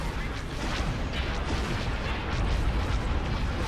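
Torpedo fire in a Star Wars space battle game, a dense continuous roar of rapid booms and blasts, fairly loud and without talk.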